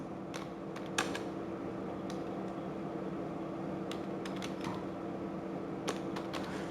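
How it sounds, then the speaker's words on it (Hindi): Typing on a computer keyboard gives sparse, light clicks in small bursts over a steady room hum, with no talking. "अब यहाँ पर मैं कंप्यूटर पे टाइपिंग कर रही हूँ"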